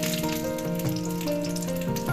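Dried red chilies hit hot ghee after coconut bits and black pepper, making a steady, soft sizzle and crackle at a moderate distance, with no talking.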